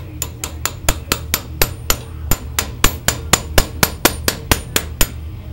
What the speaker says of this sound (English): I'm going to take me a hammer and a little chisel and I'm going to chisel the rest of that thing off of there